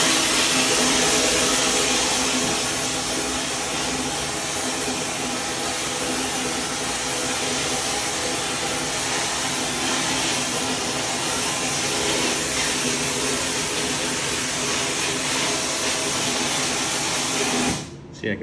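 A rusty Honda 200X axle shaft being sandblasted in a blast cabinet, a loud continuous hissing roar of abrasive and air that runs unbroken for the whole stretch, then cuts off abruptly at the end.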